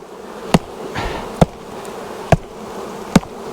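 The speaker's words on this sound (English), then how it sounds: "we still got tons of bees in there" Bees buzz around a swarm trap as a swarm is caught and moved into its new box, a continuous insect drone broken by four sharp knocking thumps spaced about a second apart.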